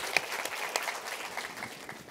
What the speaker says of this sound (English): If we can give a round of applause one more time for them.